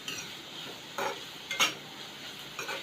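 Chopped onions and curry leaves frying in a pan, a faint hiss broken by a few sharp scraping and clinking stirs of a utensil against the metal, quiet and close.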